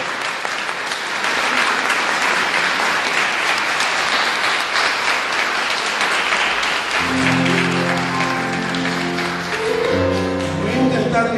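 Sustained audience applause at a night of guarania music at the Asociación de Músicos del Paraguay, dense and steady for several seconds, with music and singing starting beneath it toward the end.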